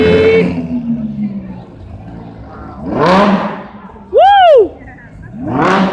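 A Lamborghini at a car show revs and pulls away in sweeping engine bursts, one rising and falling pass after another, mixed with excited crowd voices and whoops nearby.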